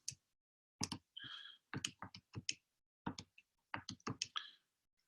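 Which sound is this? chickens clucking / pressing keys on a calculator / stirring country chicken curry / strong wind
pressing keys on a calculator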